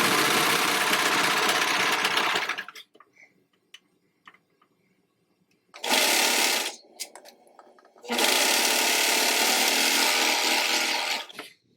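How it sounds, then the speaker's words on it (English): Sewing machine stitching striped T-shirt fabric for a dress, three loud steady runs of fast motor whirring separated by quiet pauses with small handling clicks. "Keep in mind I'm working with stripe material, so I'm going to make sure that I align my stripes as I sew."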